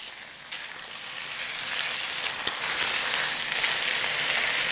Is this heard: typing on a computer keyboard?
no